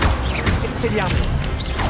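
Expelliarmus spell cast in a Harry Potter video game, a loud, dense crashing burst with whooshing swishes that fills the whole moment, while voices talk underneath.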